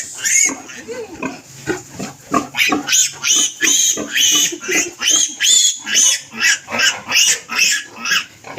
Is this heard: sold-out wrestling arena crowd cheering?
no